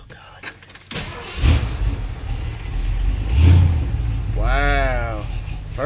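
A carbureted 1978 Ford F100 engine cranks, catches and rises into a loud rev, then idles and revs again up close, with someone speaking over it near the end.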